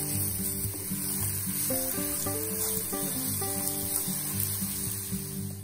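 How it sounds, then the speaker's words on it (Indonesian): Grated garlic sautéing in hot oil gives a steady, close sizzle and crackle that runs the whole time, with melodic background music playing over it. "Kemudian bawang putihnya kita tumis sampai harum."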